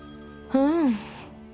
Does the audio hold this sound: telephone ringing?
yes